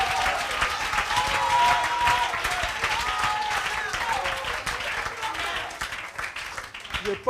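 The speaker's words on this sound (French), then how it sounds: "C'est juste, applaudissons." A church congregation applauds and cheers during a French-language worship service, a dense wash of clapping with raised voices and shouts layered over it, steady throughout and easing slightly toward the end.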